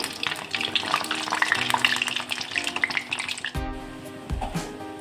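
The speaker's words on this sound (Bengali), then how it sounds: "এবার ভেজে নেব।" Mukkuli batter of panta hesel sizzles in a hot pan, a close crackling fry with small pops and stirring, cut short midway by a louder clatter.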